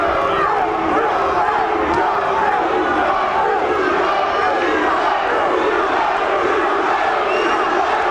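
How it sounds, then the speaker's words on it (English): A boxing arena crowd at the Terron Millett vs Zab Judah fight chants in unison for Judah, a loud, dense wall of voices and cheers sustained throughout. "You hear the crowd reaction, chanting for Judah in unison."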